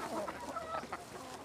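Chickens on a farm cluck softly and intermittently in a quiet, slightly noisy outdoor setting, with short murmuring calls spread across the moment and no talk.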